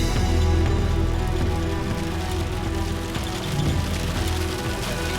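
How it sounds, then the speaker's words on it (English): Rain and hail drum on a car driving into a severe storm with a massive hail core, a loud, dense, continuous rattle over the low rumble of the moving vehicle. "We're headed right into this massive hail core."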